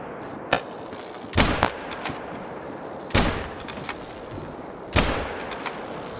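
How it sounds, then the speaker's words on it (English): Rifle gunshots while hunting bison in the video game theHunter: Call of the Wild, three sharp loud cracks spaced a couple of seconds apart with short echoing tails over steady outdoor ambience. "I'm just gonna shoot it with this gun."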